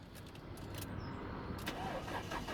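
A 113,000-mile Alfa Romeo GTV engine cranking and catching, then settling into a low steady idle, heard close but fairly quiet.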